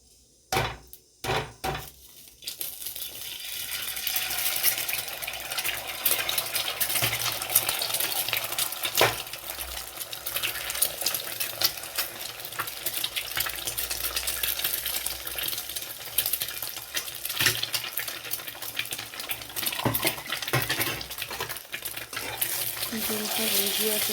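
Beaten eggs scramble in a pan for a shrimp egg bhujia, with a few sharp clinks at the start and then a steady close sizzle under constant scraping and stirring of a utensil against the pan.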